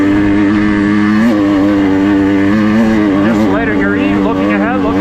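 A motorcycle engine labors up a rocky hill, held at a steady, loud drone with the rider fully off the clutch, pitch wavering slightly as the bike picks over rocks; a voice talks over it.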